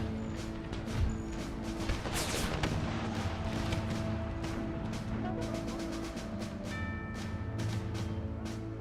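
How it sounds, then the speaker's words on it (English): Howitzer fire in an Empire: Total War mod depicting an American Civil War battle: a dense crackle of repeated gunfire and distant booms over a steady background of battle and music. "All howitzers, engage. Shoot them while they're scattered."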